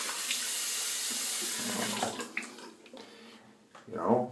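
Tap water runs steadily into a sink while rinsing off after a shave, a close hiss that breaks into splashes and gurgles as hands move through the stream.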